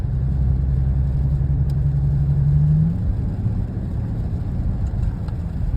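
A Dodge Charger GT engine drones steadily while the car is driven at night, a loud continuous low rumble with a brief rising hum that fades partway through, and no voices.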